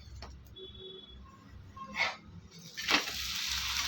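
Chicken kari dosa sizzling on a pan in the Madurai style as it is gently flipped, a soft steady sizzle with two brief louder hissing bursts when the dosa turns, close and without talk.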